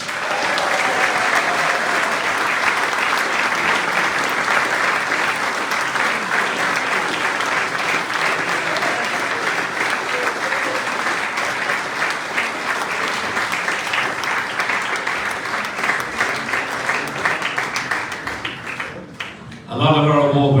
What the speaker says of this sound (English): Would you please give a big round of applause for Joe Shannon?